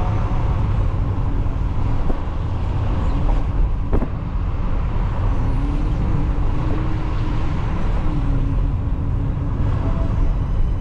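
A car drives along a road near Stenhousemuir, heard from inside as a steady low engine and tyre rumble with wind noise over the microphone and a couple of faint clicks, continuous and moderately loud with no talking.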